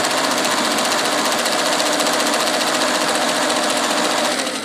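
A mid-century Singer 201K sewing machine runs at speed, a loud, close, rapid mechanical clatter that holds steady throughout and eases off slightly at the very end.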